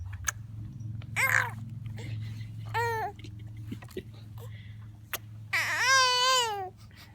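A baby girl babbles and fusses in bursts of rising, wavering vocal sounds between quiet gaps, fairly close, over a low steady hum in a home.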